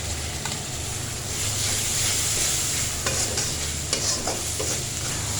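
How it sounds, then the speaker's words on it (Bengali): Spices and ginger-garlic paste with garam masala frying and sizzling in a pan while being stirred, steady hiss with scraping strokes of the spoon for a beef brain curry, close and continuous with no talk. "সব মশলা দেওয়ার পর একটু মিক্স করে নেব ভালোভাবে, নাড়াচাড়া করে।"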